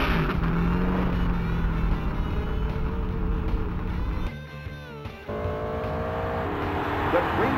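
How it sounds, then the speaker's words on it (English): Race car engines in the NASCAR 2000 video game at Talladega, a loud, dense field of engine drone with a brief drop in the middle before the roar resumes, steady throughout. "Gentlemen, start your engines."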